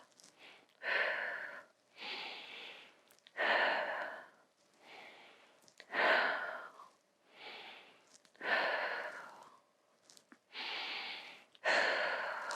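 Slow, steady breathing during prenatal yoga, close and clear, with about six long airy exhales alternating with quieter inhales in an even rhythm.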